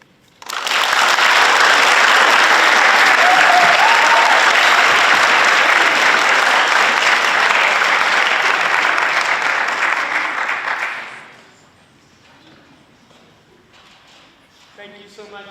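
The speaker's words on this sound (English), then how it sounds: "Let's give our Class 11s one more round of applause." Loud, sustained applause from a school audience after evening student project presentations, a thick steady roar of clapping for about eleven seconds that then dies away quickly, leaving a quiet room with faint rustling.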